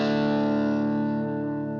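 An electric guitar lead tone through a Boss Katana Air desktop amp rings out as one sustained, distorted note with chorus and reverb, loud and close, slowly fading with no talking.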